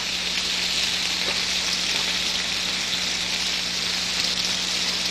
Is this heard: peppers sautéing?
yes